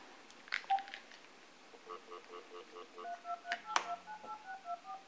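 A phone keypad sends a steady run of dual-tone dialing beeps, quick evenly spaced tones that are fairly faint and clean with no talk over them.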